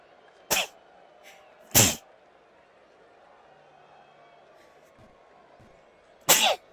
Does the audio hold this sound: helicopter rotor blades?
no